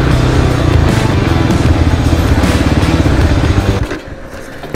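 A 150cc motorcycle engine runs loud and steady close by, rumbling and clattering, then drops away abruptly near the end.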